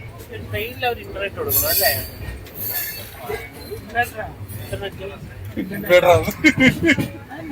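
A passenger train travels from Tamil Nadu to Agra, its steady rumble and wheel noise running throughout with bursts of squeal and rattle, while people talk over it inside the carriage.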